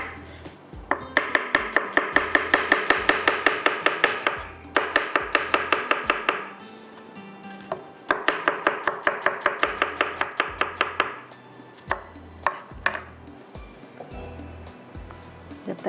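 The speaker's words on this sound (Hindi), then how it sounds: "प्याज को स्लाइस में कटिंग करेंगे, चॉप करेंगे" Onion being chopped on a board for achari aloo: two long runs of fast, even knife strikes, followed by slower, scattered chops with brief pauses, close and clear.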